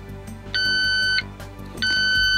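A gas detector alarm in a camper van gives two long, shrill beeps separated by a short pause, loud and close over faint background noise.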